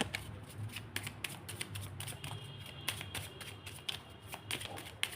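Tarot cards shuffled at close range in a steady run of quick riffling bursts over a constant low room hum, with no talk.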